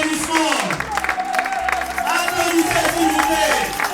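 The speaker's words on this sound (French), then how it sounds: "pour qui je demande un tonnerre d'applaudissements" Guests at a traditional wedding applaud the groom, with dense clapping and crowd murmur over a few seconds while a voice talks through it.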